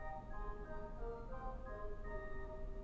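A 1930 Kimball theater pipe organ plays its 2 2/3 stop, giving soft, fluty sustained tones that shift between a few notes, heard quietly and alone.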